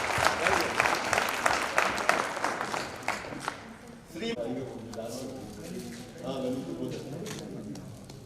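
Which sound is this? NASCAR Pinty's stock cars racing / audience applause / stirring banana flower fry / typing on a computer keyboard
audience applause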